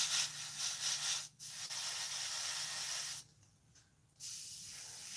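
An airbrush sprays paint onto a scale model, a steady close hiss that runs for several seconds, pauses briefly, cuts out for about a second, then resumes.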